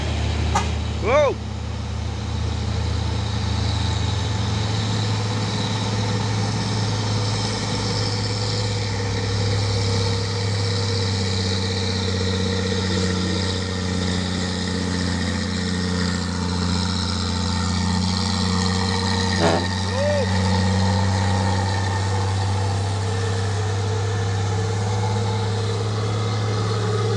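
Heavy diesel engines of a convoy of CPO tanker trucks drone steadily nearby, a low rumble holding throughout with faint higher whines and a brief swell, while voices talk underneath.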